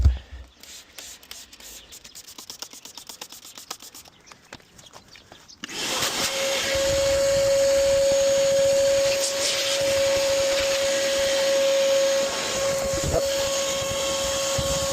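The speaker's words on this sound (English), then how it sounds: "The hoover won't be happy with me." Soft scraping and shuffling noises, then a vacuum cleaner switches on and runs steadily and loudly with a constant motor whine, cleaning the interior of a dirty seven-seat Tesla.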